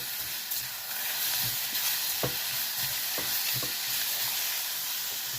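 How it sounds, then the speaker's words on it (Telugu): Chopped tomatoes are stirred into spices frying in oil for a bottle gourd and chana dal curry. Close, steady hissing sizzle with a few soft stirring taps and scrapes, and no speech. "ఇప్పుడు కట్ చేసిన టమాటాలు ఇవి కూడా వేసుకొని కలుపుకోవాలి"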